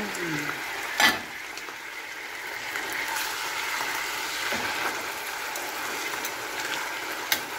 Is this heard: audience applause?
no